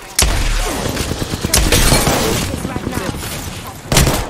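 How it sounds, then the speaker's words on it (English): Gunfire in a shooter video game: loud rattling bursts of automatic fire with sharp bangs near the start, middle and end, alongside game sound and some voice activity. "Opening fire on the enemy."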